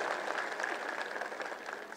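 An audience at an election campaign rally in Maharashtra claps together, a dense, sustained crowd applause heard from a distance with no voices over it.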